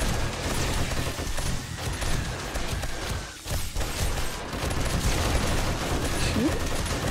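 Rapid gunfire in the 7 Days to Die video game, dense overlapping bursts of shots crackling continuously with a brief lull midway, loud and close, mixed with other game noise.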